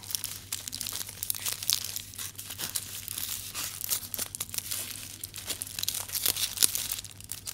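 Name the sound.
crinkling aluminium foil wrapper around a sandwich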